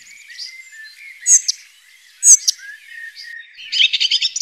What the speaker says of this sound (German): Bachstelze